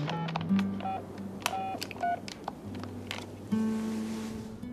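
Telephone dialing tones: a quick run of short, steady beeps is keyed in one after another at moderate volume, followed by a softer tone near the end against a faint background hum.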